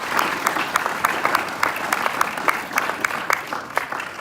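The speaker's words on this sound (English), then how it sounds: "let's give a round of applause to those two" Youth sports league awards audience applauding two nominees, brisk continuous clapping from a moderate-sized room with sharp individual claps standing out near the microphone.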